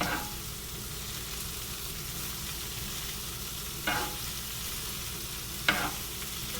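Cabbage bhaji stir-frying over a high gas flame, a steady close hiss of sizzling with two sharp scrapes or clinks of stirring partway through, no talk.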